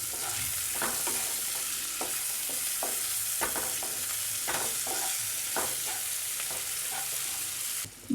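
Stale leftover fried rice with boiled peas and a pinch of salt being stirred in a pan, the spatula scraping in irregular clicks and scrapes over a steady low sizzle, close and continuous.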